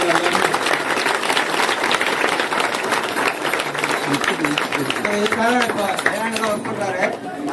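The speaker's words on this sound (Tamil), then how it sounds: "பலத்த கரகோஷம்" A crowd applauds loudly at an Ayyappan devotional puja gathering in Hosur. The dense clapping runs without a break for the whole stretch, with voices mixed in.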